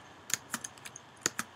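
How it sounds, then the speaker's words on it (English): Computer keyboard keys pressed during a game of The Binding of Isaac, about seven sharp, close clicks in an uneven rhythm with no talking. "Press the space bar."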